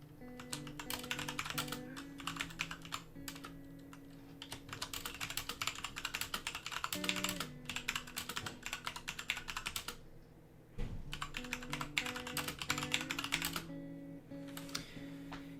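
Steady typing on a computer keyboard, a continuous patter of close key clicks that runs for about fifteen seconds with one brief pause near the middle.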